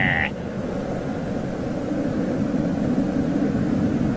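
An airplane builds up speed at a Manchester air show, giving a loud, continuous engine roar that holds steady and close throughout, with no talk over it.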